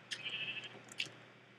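A sheep in the Minecraft video game bleats once, a short wavering baa, followed by a brief blocky click, with no talking.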